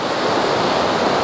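River in the Harsil valley of Uttarakhand, a loud continuous broadband rush of flowing water, steady and close, with no voices.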